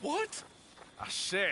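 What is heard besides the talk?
No distinct noise like a dog, phone or traffic.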